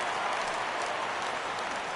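A stadium crowd applauds and cheers in the MLB 17 baseball video game, a steady wash of distant clapping and crowd noise with no clear voices on top.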